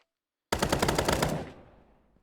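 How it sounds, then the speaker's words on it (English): Burst of automatic fire from an M4A1 rifle in a Minecraft guns mod, about a dozen rapid evenly spaced shots after a brief silence, ending abruptly with a short fading tail. "Next up is an equally famous weapon, the M4A1."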